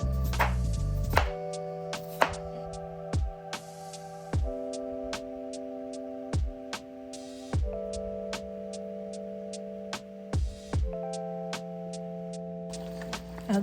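Knife slicing boiled potatoes on a board, a dozen or so crisp, evenly spaced chops, close and quiet, with a faint steady hum beneath.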